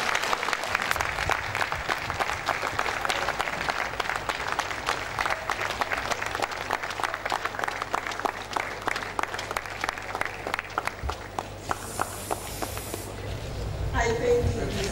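An audience at a university lecture gives sustained applause, a dense, even clatter of many hands that fades near the end as a voice begins to speak.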